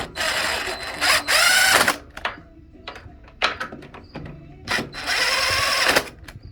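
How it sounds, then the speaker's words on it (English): A cordless power drill runs in several short bursts while fastening bolts on a Suzuki GSX-S1000 motorcycle during fairing and fuel tank installation, loud close whirs separated by clinks and handling noises. "So I'm going to use the drill."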